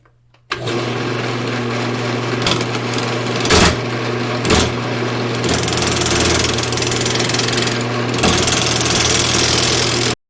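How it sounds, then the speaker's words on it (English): A bowl gouge cutting a wood blank spinning on a lathe, a steady loud whirring hum with tonal drone, briefly interrupted by a few sharp catches and knocks, running continuously near the microphone. "I think we'll use the bowl gouge."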